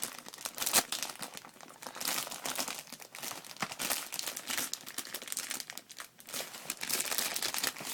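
Plastic packaging of a Moshi Monsters Yum Yum Kitchen set being pulled open, close crinkling and crackling in uneven bursts that continue throughout, with no voices.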